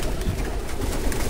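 Pigeons, including Jalali pigeons and young birds, being let out of their loft, their cooing and calls continuous and close under rustling movement.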